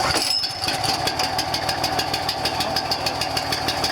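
A small petrol engine on a pressure washer catches after a pull start and runs with a steady, loud, close chugging rhythm under choke.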